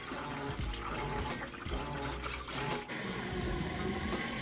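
Whirlpool HE top-load washer drains water quickly, a steady rushing, gurgling flow close by with a few brief clunks, heard alone.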